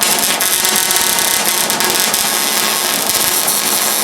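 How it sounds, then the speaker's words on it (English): Welding galvanized steel for a throw line reel gives a loud, steady, close crackling hiss that continues unbroken throughout, with no talk over it. "we're just going to weld it up in there"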